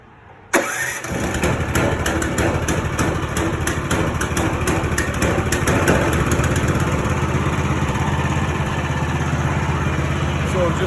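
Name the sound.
16hp Mudskipper mud motor starting and running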